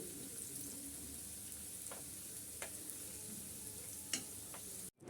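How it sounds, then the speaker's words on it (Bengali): Chicken rolls frying in oil until golden brown give a soft, steady sizzle with a few faint clicks as they are turned, continuous and fairly quiet throughout, with no voices. "বাকি রোলগুলো আমি একইভাবে উল্টিয়ে পাল্টিয়ে গোল্ডেন ব্রাউন করে ভেজে নিচ্ছি"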